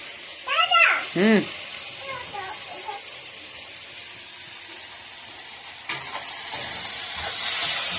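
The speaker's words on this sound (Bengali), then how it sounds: "মটর তেল আর ডাল ভালো করে ভেজে নেবো" Peas and lentils frying in oil for a Bengali-style spinach chow mein give a steady hiss that swells toward the end, with a brief voice-like sound near the start.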